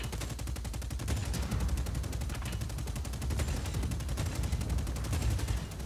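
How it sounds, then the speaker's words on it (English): A tank in the video game Just Cause 4 fires its minigun and rockets, a dense, loud, continuous stream of rapid gunfire that keeps going unbroken, with no talking. "you can shoot your rockets and you can shoot your minigun"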